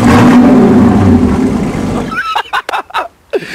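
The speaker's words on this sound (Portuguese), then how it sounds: "E aquele ronco do motor que se fascina" A race car engine roars loudly on a track for about two seconds, then drops away as people speak close by.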